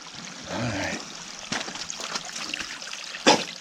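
Spring water trickles straight out of a rock face at Angel Spring in a rainforest, a soft, steady close-up flow with a few brief louder splashes.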